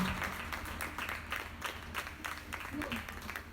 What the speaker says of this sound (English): I'll stand here and wait for people to finish clapping